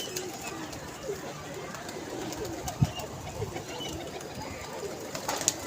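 Pigeons coo softly amid a low, busy background murmur, with a brief sharper call near the middle; the birds sound moderately close but faint.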